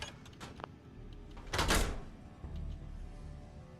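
A heavy door in the Fallout 4 video game grinds and slides open in one loud burst partway through, followed by a lower rumble, amid faint background game noise.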